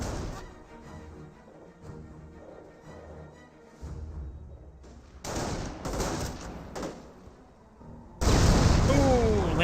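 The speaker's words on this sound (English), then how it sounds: "landmine detonation there" Landmine detonation in Company of Heroes, a sudden loud blast and burst of battle noise arriving near the end after earlier scattered explosions and gunfire, with a commentator talking over it.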